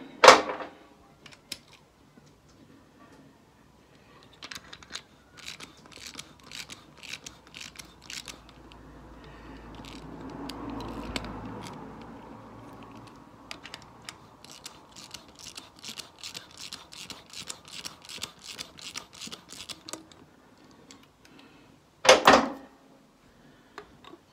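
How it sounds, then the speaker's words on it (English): Thread repair insert being screwed into the spark plug hole of a Honda CL350 engine, close, rapid bursts of clicking ratchet turns separated by pauses, with a louder metallic clatter near the end. "I'm going to put that in and tighten that up considerably so it really grips that thread"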